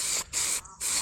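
Aerosol spray paint hissing in short close bursts over a motorcycle brake caliper on a 1999 VTR 250 cafe racer, laying down a light coat over primer with brief pauses between passes.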